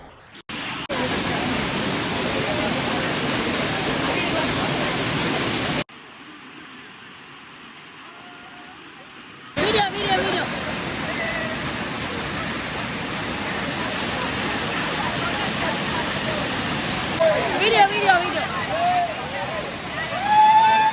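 A waterfall near Munnar pours in a steady, loud rushing roar of flowing water, briefly dropping away before returning, with faint voices in the background.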